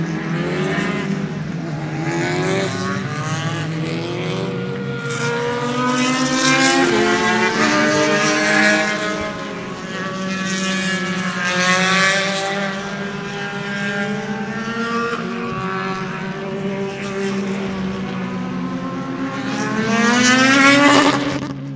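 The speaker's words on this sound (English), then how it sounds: "here comes some race cars coming onto the track" Race cars drive onto the track at Sebring, with engines revving and rising and falling in pitch as several cars pass one after another, loud and nearby, the last one swelling louder at the end.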